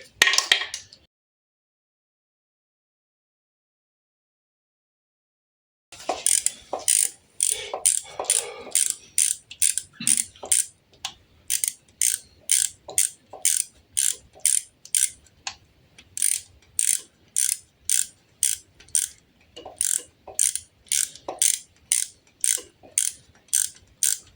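A ratchet tightening bolts during assembly of a Fiat MultiJet JTD diesel engine, bursts of rapid clicking repeated in a steady rhythm after a brief silent pause, close and clear.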